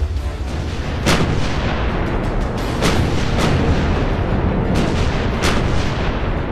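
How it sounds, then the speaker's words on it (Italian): Warships about six miles off the Normandy coast bombard the shore on D-Day, with heavy booms landing at irregular intervals over a constant loud rumble. "Alle 5:27 inizia il bombardamento."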